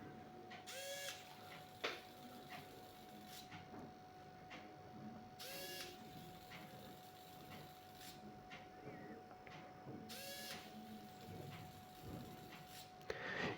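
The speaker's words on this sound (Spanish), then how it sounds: "el servo ejecuta la función de girar los 180 grados" A micro servo motor swings a smart trash bin lid through 180 degrees with three short, whirring mechanical bursts spaced evenly apart, close and fairly quiet against a faint steady hum.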